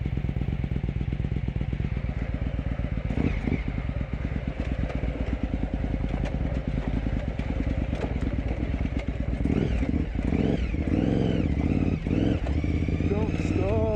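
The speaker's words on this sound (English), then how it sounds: "my bike is just barely ticking over, and the whining noise is the fans" A carbureted, high-mileage KTM adventure motorcycle barely ticking over on a trail, with a steady low idle under a constant whine from its cooling fans, one fan's bearing failing; a voice talks over it.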